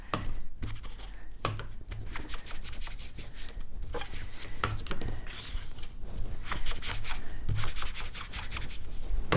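Paper envelope edges being inked for a junk journal, steady scratchy rubbing strokes repeated close up, with soft taps in between.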